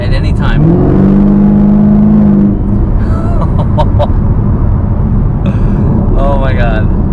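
A supercharged 650 HP Chevy Camaro ZL1 accelerates hard with a loud, rising engine roar heard from inside the cabin, while people talk excitedly over it.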